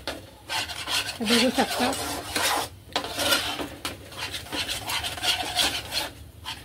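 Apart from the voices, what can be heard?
stirring besan zunka in a pan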